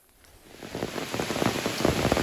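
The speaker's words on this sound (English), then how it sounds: "It's raining pretty hard." Hard rain falls in a cow field, building quickly from faint pattering into a dense, steady hiss of drops striking the ground nearby, with no voices.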